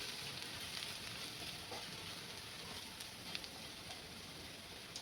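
Spice paste sautéing in a pan for a mixed vegetable dish, a soft steady sizzle with faint crackles, fairly quiet and continuous.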